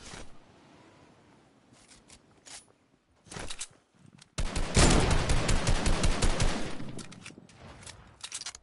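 Video game gunfire: a few scattered shots and footsteps at first, then a loud sustained burst of rapid automatic fire that tails off into isolated shots.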